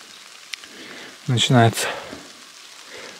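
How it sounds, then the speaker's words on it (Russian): Light rain patters steadily in a forest, a soft continuous hiss of drops on leaves and ground, faint and close, with someone briefly speaking over it midway. "Что-то дождик все чаще и чаще"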